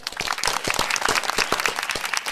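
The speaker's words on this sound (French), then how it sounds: "On les applaudit" A small podcast group claps to welcome guests, a close, crisp burst of individual hand claps in a quick, uneven rhythm, with scattered voices alongside.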